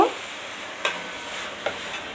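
Water poured into a hot pan holding browned elephant foot yam, a steady hissing sizzle with two brief sharp bursts, close by and with no voices.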